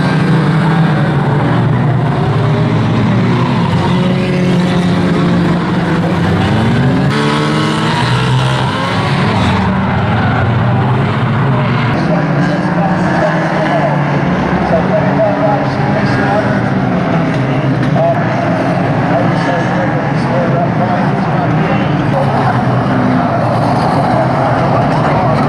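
Banger racing cars at Aldershot, with a loud, continuous roar of engines from the pack and occasional knocks of contact, while people talk over it throughout.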